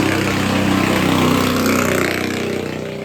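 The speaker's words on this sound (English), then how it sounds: "now a boat is coming. It could get a little bit louder." A motorboat passes nearby in Thailand, its engine a loud mid-pitched drone that swells slightly and then eases as it moves on, heard alone.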